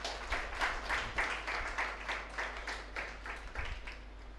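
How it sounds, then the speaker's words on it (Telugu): Students in a classroom applaud their classmate Nagamani, a continuous round of many hands clapping in quick, even pulses throughout, over a low steady hum. "నాగమణికి మరొకసారి క్లాప్స్ కొట్టండమ్మా."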